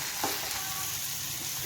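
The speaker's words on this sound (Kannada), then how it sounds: "ಎಲ್ಲ ಹೋಗುವವರೆಗೂ ಚಲೋ ತಂಗೆ ಫ್ರೈ ಮಾಡ್ಕೋಬೇಕು. ಹೊತ್ತಿಸೋದು ಬಿಟ್ಟು ಇದು ಮಾಡಬೇಡ್ರಿ, ತಿರ್ಗಾಡ್ಕೊತಾನೆ ಇರ್ರಿ." Food frying in oil in a pan while being stirred, a steady close sizzle with a soft scrape of a utensil near the start.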